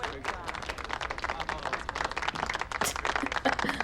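Audience clapping in a Star Trek: The Next Generation episode, a dense steady patter of many hands applauding throughout, with faint talk mixed underneath.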